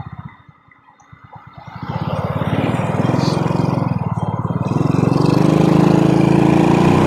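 An old Honda C70 motorcycle engine runs close by, a steady low putter that swells louder after a couple of seconds as the revs rise, then holds a loud, even drone.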